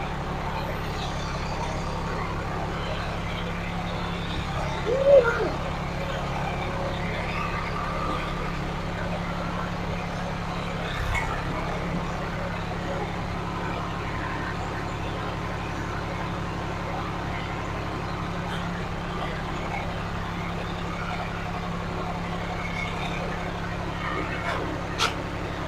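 The steady low idle of a big green tractor's engine, a constant diesel rumble running throughout with a few faint knocks and bumps and occasional distant voices.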